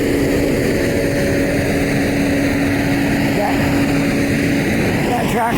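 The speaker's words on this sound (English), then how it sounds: "That truck is shredding paper from offices and stuff like that." An Iron Mountain truck shredding office paper on a city street gives off a loud, steady mechanical drone with a sustained whine, nearby and unbroken.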